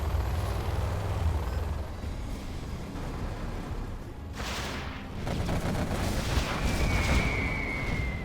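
A carpet bombing run in a real-time strategy game, a Nuke versus Demo match on the Canyon Frost map, rumbling as a dense, continuous barrage of explosions, growing louder and more crackling midway through.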